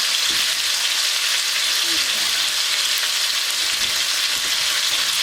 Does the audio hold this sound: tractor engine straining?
no